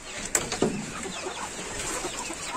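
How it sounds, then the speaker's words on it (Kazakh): Farm hens give a couple of short, faint clucks early on, then only a quiet outdoor background remains. "тауықтарымыз"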